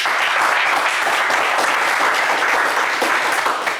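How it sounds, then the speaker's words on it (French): Studio audience on a French television game show applauding a contestant, a dense, steady wash of clapping that stays loud and even throughout with no voices over it. "On vous applaudit"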